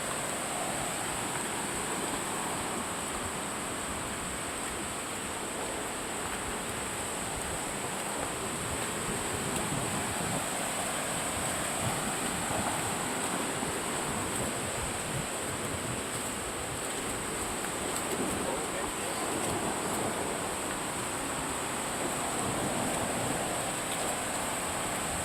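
Steady wind rushing across an open outdoor space, a continuous broadband roar with gusty swells and no voices.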